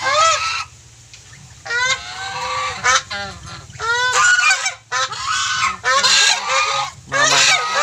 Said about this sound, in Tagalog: Mga alagang gansa.